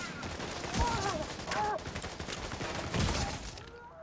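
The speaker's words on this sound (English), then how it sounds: "Stop shooting me" Video-game gunfire aimed at the player: several loud, close bursts of rapid shots spread across a few seconds, with faint voices and game noise between the volleys.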